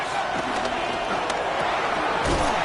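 Football stadium crowd roaring before a third-and-inches play, a loud continuous wall of cheering and yelling with a few sharp thuds and shouts poking out.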